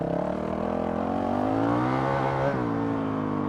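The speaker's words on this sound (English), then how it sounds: "you can hear it wind up faster" Honda CRF 450 RL motorcycle engine with an aftermarket ECU revving steadily, its pitch rising as it winds up and then dropping back, a close, loud, continuous drone.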